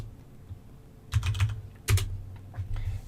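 Keys on a computer keyboard typed in short bursts to enter an ifconfig command on a Kali Linux machine, a few clustered clicks separated by quiet gaps, fairly close.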